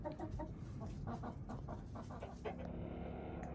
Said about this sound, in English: Here are 2 of my hens sitting in their nest boxes, sitting on eggs